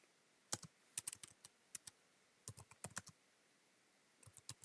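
Quiet computer keyboard typing, bursts of crisp individual key clicks in short irregular runs separated by pauses, close and isolated with no talking.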